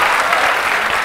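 Brief burst of audience clapping in a hall during a corporate talk, a dense, loud flurry of many hands heard alone.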